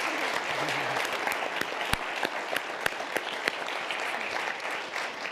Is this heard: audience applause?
yes